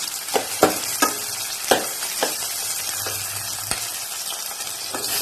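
Tomatoes fry and sizzle in a pan for a capsicum chickpea curry, with a steady hiss broken by several sharp scrapes and clacks of stirring, close and loud, with no talk.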